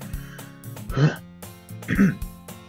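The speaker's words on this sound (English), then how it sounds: "Cough." Two short, throaty coughs, about a second apart, close to the microphone, amid background music and sounds of the game Doki Doki Literature Club.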